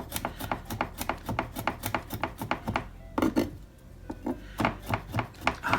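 Garlic being mashed and chopped for stewed beans, a steady run of sharp knocks and rubbing strokes on a board, close and fairly loud, pausing briefly midway before resuming.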